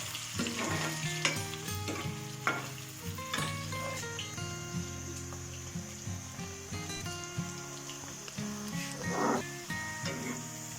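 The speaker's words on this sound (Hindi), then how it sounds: "मैंने डाले हैं इसमें प्याज, ये हल्के हल्के ब्राउन होने तक" Sliced onions fry with dried red chillies in a pan until light brown for a potato chicken curry. A steady close sizzle carries scattered stirring knocks, with sustained tonal sounds running underneath.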